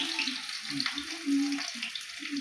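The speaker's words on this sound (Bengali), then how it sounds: "আলুগুলো তুলে ফুলকপিটা ভেজে নেবো" Cauliflower fries in a pan of oil just after fried potatoes are lifted out, for a fish curry with cauliflower and potato; a brief, steady sizzling hiss fills the moment with a faint murmur beneath.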